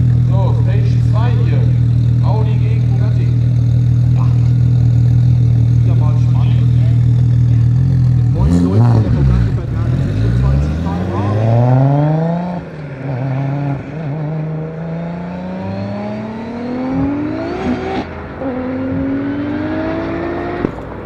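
A tuned Audi RS4 saloon and a Bugatti heard close, a deep steady engine drone giving way to loud revving that climbs and falls in pitch again and again as the cars accelerate through the gears, with voices over the noise.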